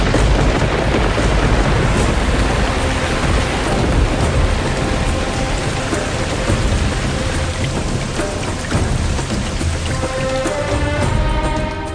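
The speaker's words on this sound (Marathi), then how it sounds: "आणि मग पावसांच्या रिमझिम धारांचा वर्षाव सुरू झाला." Village rain shower pours down in a dense, steady hiss of drops on surfaces, with deep low rumbles underneath suggesting thunder, loud and continuous for the full length without any talk.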